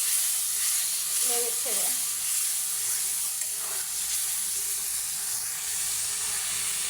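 Water poured into spice paste (masala) frying in a pan for a radish-and-meat dish sets off a steady, continuous sizzle and hiss of steam, with a brief voice speaking over it.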